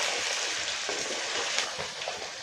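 Potato halves fry in oil in a pan for an aloo biryani, giving a steady, close broadband sizzle with faint crackles throughout and no voices.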